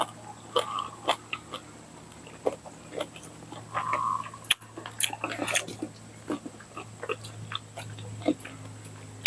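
Crispy fried red sausage is bitten and chewed up close, with sharp crunches and irregular wet chewing clicks spread over several seconds and no talking.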